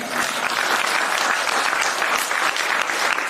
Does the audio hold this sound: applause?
yes